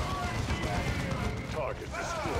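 Dense gunfire from a battle in the video game Dawn of War II, a continuous crackling barrage with voices speaking over it.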